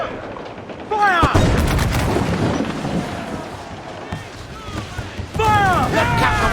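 Ship cannons firing a broadside in Assassin's Creed IV Black Flag, with heavy booming blasts at about one second and again near the end over constant battle noise at sea, under shouted voices.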